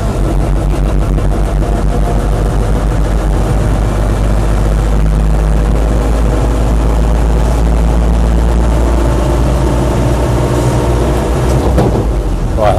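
Land Rover Series III 88-inch diesel truck cab on the move, heard from inside the cab: a loud, steady, clattering diesel drone with a deep low rumble, gearbox hum running throughout and no talking.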